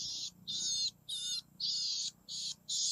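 A bird in the forest calls in a steady series of about seven clear, high, evenly spaced notes, close and distinct against quiet surroundings.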